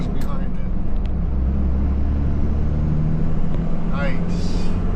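A truck's engine idles with a steady low rumble and throb during a shakedown test run after repair work, continuous and close, with a few faint clicks and higher squeaks over the top.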